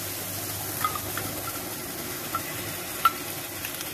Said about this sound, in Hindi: अब हम इसमें ऐड कर रहे हैं ये जो दही के साथ हमने मसाला बनाया था वो